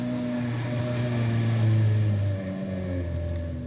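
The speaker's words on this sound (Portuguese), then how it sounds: "vou esperar o carro subir aqui" A car labors uphill along a muddy, slick dirt road, its engine droning steadily and loudly with a low rumbling hum that swells slightly midway, heard alone without talk.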